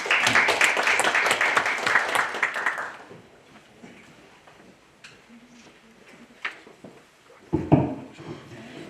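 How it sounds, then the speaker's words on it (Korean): A conference audience at an academic policy forum on real estate appraisal claps for about three seconds in a dense burst, then the clapping dies away into quiet room noise with a few faint knocks and shuffles. "그럼 이제 마이크를 전해주신 김순영 교수님께 큰 박수로 부탁드립니다."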